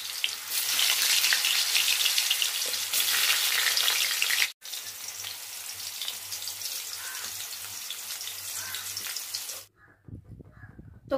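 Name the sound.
potatoes frying in hot oil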